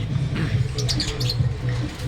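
A pet bird gives a few quick, bright chirps close by over a steady low hum, with no talk.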